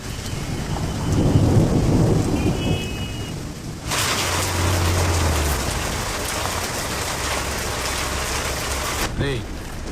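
Heavy rain pours down steadily, and rumbles of thunder break through it, one near the start and a louder surge partway in. The rain stays dense and constant, with a brief voice near the end.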